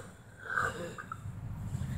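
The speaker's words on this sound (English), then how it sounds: "I can do a weird burp, like I'm breathing inwards instead of burping out." A person doing an odd burp by drawing air inward rather than pushing it out, producing a raspy, wheezy intake that stretches over a couple of seconds, close and fairly quiet with no talking.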